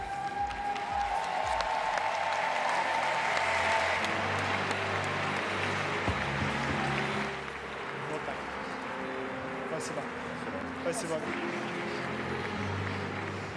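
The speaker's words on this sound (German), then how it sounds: "untermalen ja auch mit Applaus ihre Konkurrenten aus Russland" Arena audience applauding at a European figure skating championship ice dance free dance, a broad, sustained roar of clapping and crowd noise under a commentator's voice, thinning slightly partway through.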